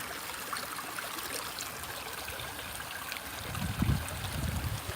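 A small Scottish burn flowing outdoors on a hike near a golf course, a steady close trickle and gurgle that swells into louder rushing water near the end.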